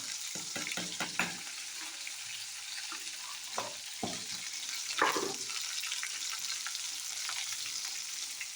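Ginger paste frying in a pan for pea kachori filling, a soft steady sizzle with a few clustered spatula clacks and scrapes early on and a louder scrape near the middle, close and fairly quiet, no talking.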